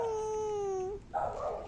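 A dog lets out a drawn-out, high-pitched whine lasting about a second, then a short rougher burst of sound, close by, with no talking.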